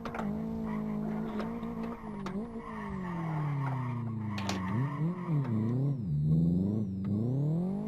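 Volkswagen Golf engine revving in the Live for Speed racing game, a close, loud engine note rising and falling through gear changes, with sharp dips and surges and brief tire squeals.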